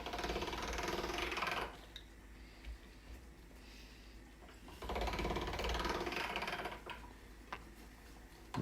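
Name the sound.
pasta roller rolling coffee pasta dough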